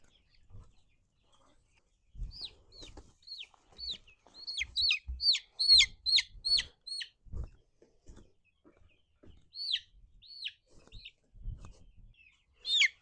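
Baby chicks and chickens peep in high, thin chirps, scattered at first and then in a dense flurry mid-clip, close and fairly loud with soft handling thumps and rustles underneath.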